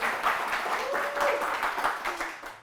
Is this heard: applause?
yes